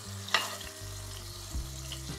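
Chicken fillet frying in a pan over medium heat, a steady soft sizzle with one brief sharper crackle near the start and a low background hum throughout.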